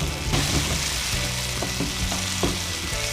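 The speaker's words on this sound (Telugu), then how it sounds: "సో నెక్స్ట్ మనం కొంచెం అల్లం వెల్లుల్లి పేస్ట్ చేసుకుందాం. యాజ్ వెల్ యాజ్ పచ్చిదనం పోయినంత వరకు కూడా మనం కొంచెం ఫ్రై చేసుకుందాం." Ginger-garlic paste frying with green peas in a pan for gobi matar, a steady loud sizzle with soft stirring scrapes and clinks throughout.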